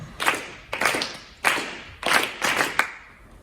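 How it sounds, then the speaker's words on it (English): A group claps a short rhythm in unison during a rhythm lesson, five or six sharp, close claps in an uneven pattern with quiet gaps between them and no talking. "everybody clap it"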